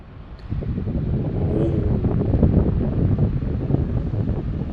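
MUJI oscillating circulator fan running at speed 3, giving a steady, fairly loud rushing of air with gusty buffeting against the microphone, continuous throughout with no talk.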